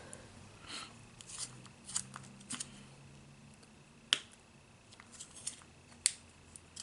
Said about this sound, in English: Yes, I sharpen my pencils.